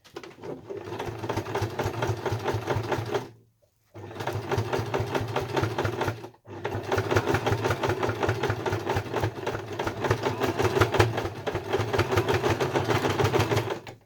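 A sewing machine runs a zigzag stitch around the edge of a fabric oven mitt, a steady close rapid whirr that stops briefly twice before carrying on.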